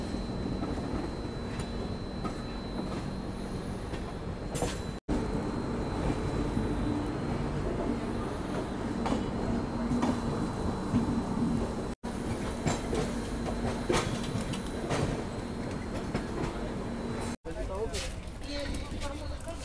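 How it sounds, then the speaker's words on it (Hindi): The Howrah Duronto Express rolls past on the Delhi–Howrah line with a steady rumble and rhythmic clickety-clack of wheels over rail joints, loud and close for the whole stretch, with voices talking over it. "देखिए कितनी प्यारी ट्रेन आ रही है भाई"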